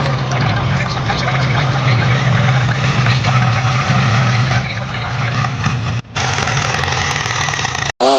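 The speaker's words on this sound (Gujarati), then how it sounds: "તો ગાઈસ ટ્રેક્ટર આવી ગઈ છે, જોઈ શકો છો તમે" A tractor engine idles in a field with a low, steady rumble that continues for about eight seconds, close by, with brief dropouts near the end; a person talks over it.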